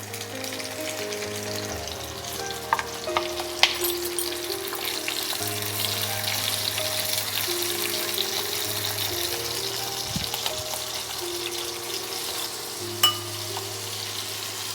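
Capsicum pieces for chilli prawn sizzle and fry in a pan, a steady close hiss running throughout with a few clinks and scrapes of stirring, and no voices.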